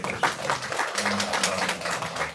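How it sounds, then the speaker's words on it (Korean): Congregation applauding in a church sanctuary, a steady wash of many hands clapping at moderate volume over a faint low hum, continuous throughout. "우리 하나님께 영광의 박수 드립니다."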